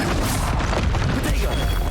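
A Confringo blasting spell explodes in Hogwarts Legacy amid dense combat noise, a thick continuous rumble of booms and crashes with a voice partly mixed in.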